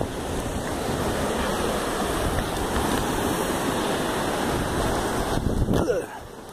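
The Rio Preto waterfall roars in a steady, loud broadband rush along a rocky trail, close by and unbroken until it cuts off near the end.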